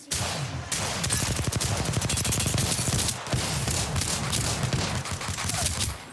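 Rapid rifle gunfire in a first-person shooter video game, dense continuous bursts of shots that pause briefly around the middle before resuming, loud and close throughout.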